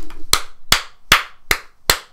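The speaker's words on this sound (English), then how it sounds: "Round of applause, round of applause." Five slow, evenly spaced claps ring out alone, sharp and close, about every four tenths of a second, a single person applauding.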